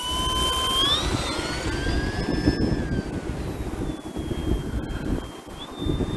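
An E-flite T-28 1.2 m RC model airplane flies past with a steady electric whine near half throttle, its pitch sliding down as it moves away, over constant outdoor wind noise.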